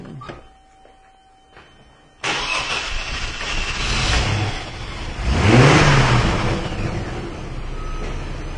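A car engine with a no-spark fault cranks and catches, roaring up with a surge of revs before settling into a steady idle. Faint clicks and a tone come before it, and no one speaks.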